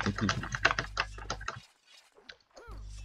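A computer keyboard hammered with quick, clattering keystrokes in rapid bursts, then a short silence and a few more taps, fairly close, while a game session plays out.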